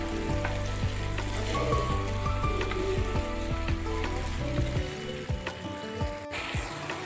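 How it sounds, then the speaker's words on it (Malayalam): Ripe tomatoes being stirred and mashed in a hot pan for a tomato roast, a steady close sizzle and frying hiss with repeated scraping and tapping of the spoon against the pan, no voices. "തക്കാളി എല്ലാം നല്ലോണം ഒന്ന് കുഴഞ്ഞു കിട്ടുന്നവരെ നമുക്കിന്ന് ഇളക്കി ഒന്ന് നല്ലോണം കുഴച്ചെടുക്കാം"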